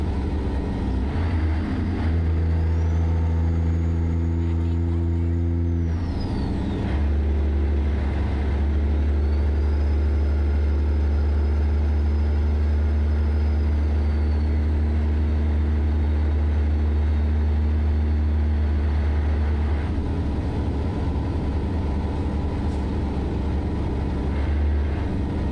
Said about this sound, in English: We were just talking about the C15 and the engine and sound pack from Z-Mods that we're running right now.